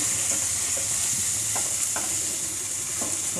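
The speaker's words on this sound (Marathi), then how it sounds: "हे मिक्स करूयात आणि मिक्स करताना हे अशा पद्धतीने आपल्याला थोडंसं मॅशसुद्धा करून घ्यायचं आहे" Tawa pulao masala on a hot griddle crackles with a constant soft sizzle while a spatula mixes and mashes it, giving several distinct scraping strokes close by.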